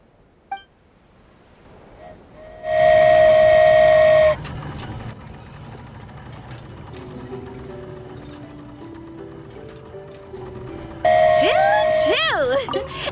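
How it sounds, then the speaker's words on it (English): In the video game Genshin Impact, the Aerial Express flying train sounds a bright, tonal whistle in two blasts, one near the start and one near the end, with gentle game music and effects between them. "Choo-choo! Aerial Express moving out."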